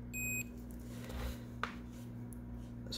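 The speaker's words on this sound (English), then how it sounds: "So, continuity just beeps." Multimeter in continuity mode, a short steady electronic beep near the start, fairly loud over a faint mains hum, with a faint click later during PS Vita 1000 USB Type-C repair work.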